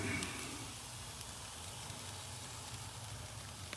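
Ribeye and filet steaks sizzle steadily in a pan, a continuous close hiss of frying with faint crackles, heard alone without talk.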